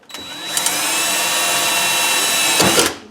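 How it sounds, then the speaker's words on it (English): A power drill bores into material for a dishwasher mounting bracket on a granite or quartz countertop, a loud close, steady whine that holds for about two and a half seconds before winding down. "so now I have to do a drill."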